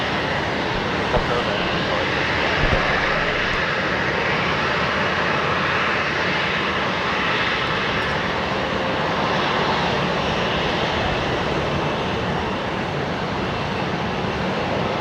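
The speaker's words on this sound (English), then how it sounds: "the heavy I was hearing was the Jetstar 787" A Jetstar Boeing 787 at Brisbane Airport produces a continuous, even jet-engine roar that holds steady throughout, with muffled voices faintly present underneath.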